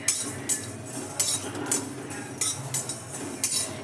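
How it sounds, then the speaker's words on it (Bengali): Cumin, coriander and fennel seeds dry-roasting in a dry kadai on low flame, with a spatula clinking and scraping against the metal in a steady rhythm of close, repeated taps about every half second. "এবার এই শুকনো কড়াইয়ে আমি একটু মশলাগুলো ড্রাই করে নেবো"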